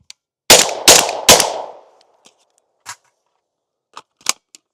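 A suppressed Genesis Arms GEN-12 shotgun fires buckshot, three loud muffled blasts in quick succession, followed by a few faint clinks and small handling noises.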